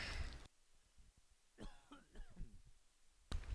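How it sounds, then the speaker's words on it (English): During a narrated nursing lecture, a close, fairly quiet burst of coughing and throat clearing sits between short pauses and stops and starts in the near-silent room. "hang on, I have to cough"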